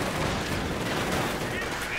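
Dense gunfire from Sturmgewehr assault rifles and Gewehr 43 rifles in the Company of Heroes 2 battle game, a loud continuous rattle of overlapping shots and bursts.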